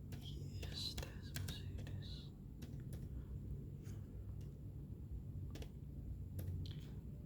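Soft, scattered clicks of computer keyboard keys as a command is typed, quiet and close against a low steady background hum, with faint breathy voice sounds in places.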